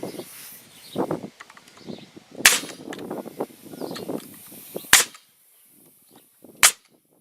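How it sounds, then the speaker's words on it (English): A post for deck stairs being nailed in outdoors, three loud sharp percussive strikes spaced a couple of seconds apart, with softer tapping and handling noises between them. "So he's nailing it in now."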